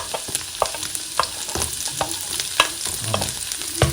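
Minced garlic and onion frying in a pan, a steady close sizzle broken by stirring scrapes and small pops.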